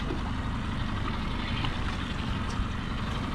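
A boat engine runs nearby at a campsite, a steady low rumbling drone that holds even and continuous throughout, fairly close with no voices.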